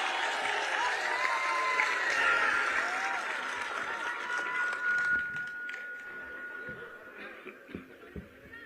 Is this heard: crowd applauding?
yes